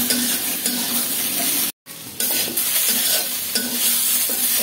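Spices and vegetables sautéing in a hot pan for a rohu fish curry with ridge gourd, a loud continuous sizzle broken by repeated stirring scrapes, with one brief sudden dropout in the middle.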